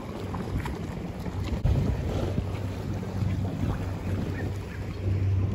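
Strong wind on Burgazada island, Istanbul, buffeting the microphone with a low steady roar and occasional gusts, no voices.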